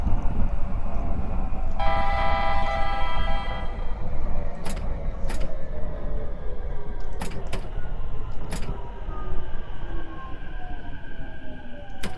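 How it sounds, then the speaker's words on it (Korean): A train in the BVE5 train simulator game approaches, rumbling steadily, with a horn-like tone sounding early and sharp clanks and squeals over a continuous low roar. "열차 접근"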